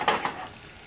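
Onions and shallots sizzle and soften in a hot pan, a brief soft frying hiss with a light stir at the start that fades quickly.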